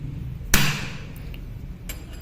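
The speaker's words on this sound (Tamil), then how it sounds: "இந்த மாதிரி தட்டி இதை நல்லா ஓப்பன் பண்ணிடலாம்" A sharp single knock on a hard wood apple shell, tapped to crack it open for a sweet recipe, followed by a few fainter taps and light handling noise.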